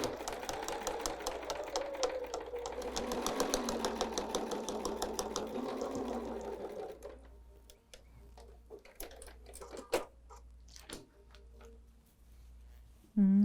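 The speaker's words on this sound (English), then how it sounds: "now we're at the machine and we're just going to sew our 1/8 inch seam allowance all the way around" A sewing machine stitches a 1/8 inch seam around a fabric casserole hot pad, a steady fast mechanical whir and rhythmic needle clatter that stops partway, followed by a few faint handling clicks.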